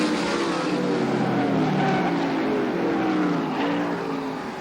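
Race cars battle for the lead in the 1987 Syracuse National Auto Supply 320, a loud, continuous roar of engines that rises and falls in pitch as the cars circle the track together.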